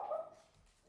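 Dog giving a single short bark or yip, faint and somewhat distant indoors, fading quickly.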